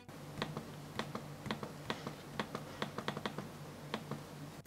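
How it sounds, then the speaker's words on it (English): Sharp clicks from the clickpad of an Asus X550 laptop, an entry-level 15.6-inch model, pressed about a dozen times in an uneven rhythm, close and fairly faint over a low steady hum. "clicking it produces an annoying sound"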